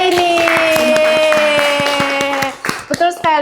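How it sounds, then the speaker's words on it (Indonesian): A classroom group gives a short, brisk burst of clapping for a student, the claps quick and close together over a sustained tone, ending after about two and a half seconds as a voice speaks. "Tepuk tangan buat Anggra ini."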